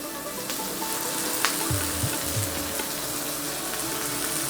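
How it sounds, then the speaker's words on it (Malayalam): Coriander and turmeric powders and other spices fry in oil for chana masala with a steady, moderate sizzle and a few soft stirring knocks, close by and without speech. "ഇതിലേക്ക് ഈ മല്ലിപ്പൊടിയും മഞ്ഞൾപ്പൊടിയും മസാലകളൊക്കെ ഒന്ന് ജസ്റ്റ് ഒന്ന് മുരിഞ്ഞ് വരട്ടെ."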